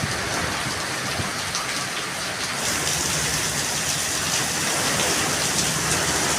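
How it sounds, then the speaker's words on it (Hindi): Heavy stormy rain pours down outdoors during work in a hard downpour, a dense, continuous hiss that swells slightly louder partway through, steady and close, with no talking. "इस झंडे से आपको अंदाज़ा हो रहा होगा कितनी तूफ़ानी बारिश है।"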